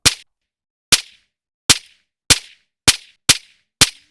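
PSA Dagger pistol firing at a shooting range, seven loud, sharp single shots spaced about half a second to a second apart, each ending in a short decay.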